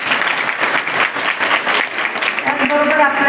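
An audience at the inauguration of a community hall bursts into sustained applause, a thick wash of clapping that swells and lingers, with a voice rising near the end.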